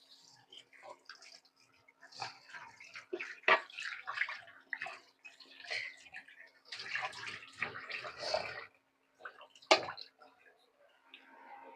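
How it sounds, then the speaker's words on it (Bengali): A pot lid washed under a running kitchen tap, heard as intermittent splashing and rinsing bursts with drips and a few clanks, fairly close but soft. "ঢাকনাটা নিয়ে আসি ধুয়ে।"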